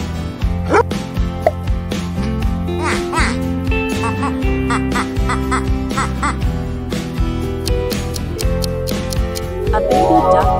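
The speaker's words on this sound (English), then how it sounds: "A baby duck is a duckling." A duck quacks in a children's baby-animal guessing game, with several short quacks set over steady, loud background music.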